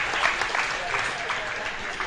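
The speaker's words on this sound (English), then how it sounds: "I encourage you to give them all a round of applause right quick" Crowd applause at a junior livestock sheep show, a steady, dense wash of clapping from a sizable audience, with a voice faintly audible underneath.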